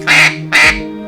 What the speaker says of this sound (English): we basically do our standard quacks, chuckles, stuff like that, just to get a good sound file and see where we stand with the call